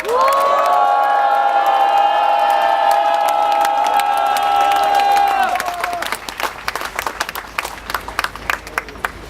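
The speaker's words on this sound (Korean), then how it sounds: "다시 한번 힘찬 함성으로 화답하도록 하겠습니다" Rally crowd answering a call from the stage, at first a loud sustained unison shout with cheering, then breaking into dense close applause and clapping with scattered calls for the remaining seconds.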